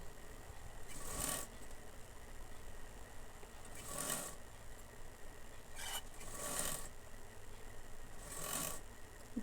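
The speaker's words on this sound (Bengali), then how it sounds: "দিয়ে আমি ডবল করে সেলাই দিয়ে নিচ্ছি" A sewing machine stitching a bolster pillow cover, run in four short bursts of whirring stitches, each about a second long, separated by quiet pauses over a faint background hum.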